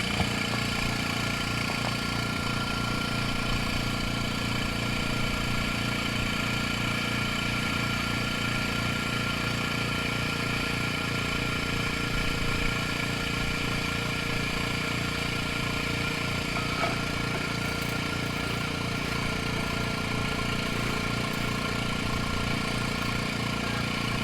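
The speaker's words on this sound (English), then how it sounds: "Start up the pump." Small pump running steadily during filtering of gold powder recovered from electronic waste, a constant low mechanical hum with a faint pulsing throb, even and moderately quiet throughout.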